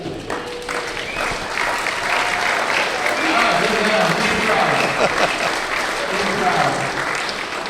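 A crowd at a celebration of a coach's long career applauds state champion players as they stand, a dense, sustained clapping that swells and holds, with scattered voices and cheers underneath.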